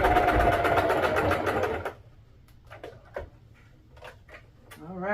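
A sewing machine stitches across the ends of an elastic waistband in a loud, fast rattling run for about two seconds, then stops, leaving quiet handling clicks and rustles.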